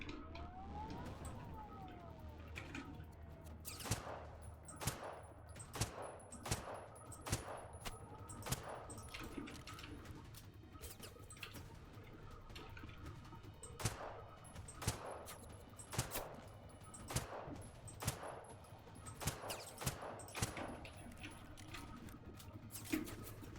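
Repeated sharp gunshots ring out in the video game Generation Zero, spaced single cracks over a steady droning game ambience with a faint high whine.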